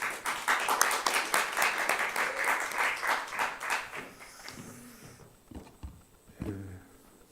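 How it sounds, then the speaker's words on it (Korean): Audience applause in a church seminar hall for pastors and their spouses, dense steady clapping from many hands that fades out over the last couple of seconds as a few shuffles and a voice begin. "박수로 우리가 맞이하겠습니다"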